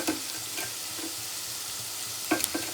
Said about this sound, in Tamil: தேங்காய் சேர்த்து பொன்னிறமாகிற வரைக்கும் வணக்கிக்கலாம்.